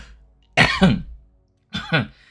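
A man with a lingering cough gives two separate throat-clearing coughs, close and loud, the second a little softer, with silence between.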